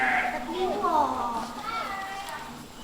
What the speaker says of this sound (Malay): Sebelah ada kambing lagi.